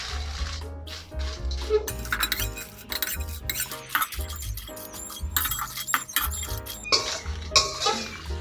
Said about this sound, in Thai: ทีนี้เราก็คั่วพริกให้หอมแล้วก็ให้เกลียมนิดๆ